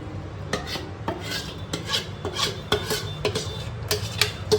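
Fruit puree for homemade mixed fruit jam being scraped into a kadhai, with several scraping and clinking strokes of a utensil against the metal pan at an uneven rhythm, close and moderately loud, with no talking.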